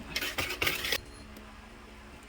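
Eggs being mixed into oatmeal cookie batter in a bowl, a quick run of clinking, scraping utensil strokes against the bowl for about a second, then near silence.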